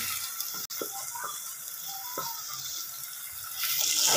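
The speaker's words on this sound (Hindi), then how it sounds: "इसमें थोड़ा सा पानी डाल दूंगी ताकि हमारा मसाला लगे ना।" Water is poured into a pan of spiced keema masala mixture, producing a close, steady liquid splashing and trickling over about four seconds, swelling slightly louder toward the end, with no talking.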